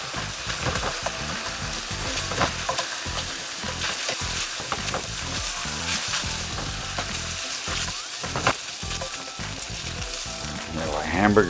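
Ground hamburger meat sizzles and crackles steadily in a hot pan, with intermittent scraping and clatter as it is stirred, close and continuous throughout.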